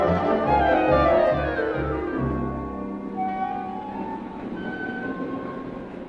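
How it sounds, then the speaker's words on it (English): A train rumbles close by with rhythmic wheel clatter, then slows as a low hum and faint squeals linger in a large echoing railway station. "The train now standing on platform 4 is the 2:30 express for Dartmoor Prison."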